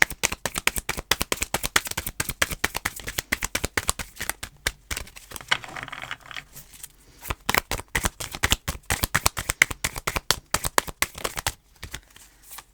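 Tarot cards being shuffled in quick, crisp riffling bursts, repeated steadily and close up with brief pauses, no talking.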